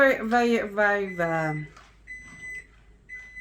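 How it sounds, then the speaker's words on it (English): A sustained high electronic beep sounds twice after a stretch of talking, each tone steady and clear, with a short pause between. "oh, that's my alarm."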